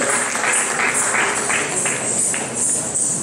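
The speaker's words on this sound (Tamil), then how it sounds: "உற்சாகமான கரகோஷத்தை வழங்குமாறு வேண்டுகிறோம்" Audience applause after a dance performance at a temple festival, a dense, bright patter of many hands clapping steadily, with a few louder bursts.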